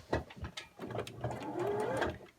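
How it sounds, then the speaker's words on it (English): Home sewing machine running a short forward straight stitch on scrubs hat fabric, a brief mechanical whirring burst of needle clatter close by, alone without talk. "I'm going to do a little bit of forward stitch"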